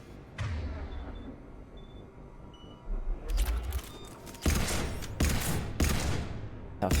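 A pistol in the video game Mass Effect 3 fires a few sharp shots after a quieter stretch. The later reports come in quick, punchy bursts with no talking.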